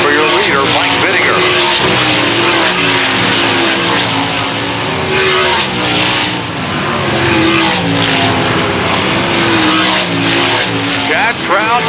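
Race cars at the Kevin Gobrecht Classic roar around to complete a lap, a loud, dense engine drone with changing pitches close by, under continuous excited talk from a commentator.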